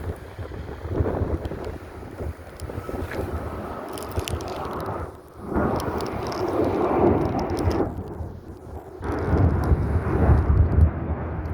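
A United Boeing 737-8 airliner takes off from a runway, a loud, rumbling engine roar swelling and fading in broad waves, heavily buffeted by wind noise across the microphone.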